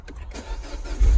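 A Mini Clubman S engine starting up close by in a brief burst, its low rumble swelling louder as it catches at the end.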